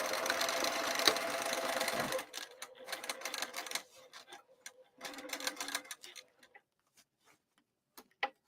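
A sewing machine stitches a bowler bag from the top, with a dense continuous run of rapid needle clatter at first, then shorter bursts and scattered single ticks as the stitching slows and stops.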